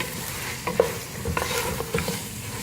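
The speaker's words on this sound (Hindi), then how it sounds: "अब इसको भूनेंगे अच्छी तरह से" Mutton pieces for Peshawari namkeen gosht are stir-fried in a pot, a soft sizzle broken by several scraping, clanking stirs of a spoon against metal, close and without voices.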